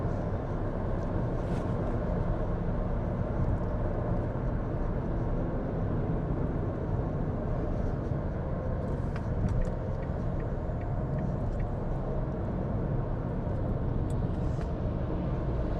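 Steady road traffic on a highway crowded with trucks heading toward Merak, a continuous low rumble and roar of heavy vehicles passing at moderate distance with no talk over it.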